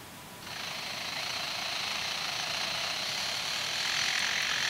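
A lyrebird mimics construction-site noise, a steady harsh rattling drone like a jackhammer that starts abruptly and holds at moderate volume for several seconds.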